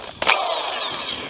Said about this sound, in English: I'm using a spade bit to get my hole started because it makes for a cleaner hole on the inside.